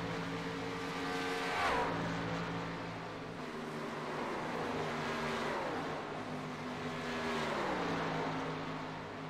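Race cars roar past one after another to complete a lap, engines rising and falling in pitch as each passes, loud and fairly near with no talk over them.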